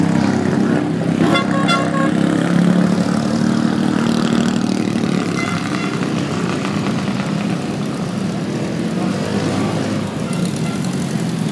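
A Lotus Europa mid-engine sports racing car rolls by in a race car parade at Lime Rock, its engine droning loudly and steadily over a continuous background of other running cars.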